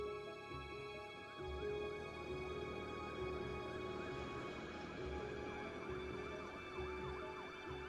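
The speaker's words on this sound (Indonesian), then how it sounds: "ambulan yang membawa jenazah Antonius dan Indra mulai bergerak menuju rumah sakit" An ambulance siren wails steadily as the ambulance drives off from a crime scene, its rising and falling tones continuous and fairly distant, with road rumble beneath and no voices.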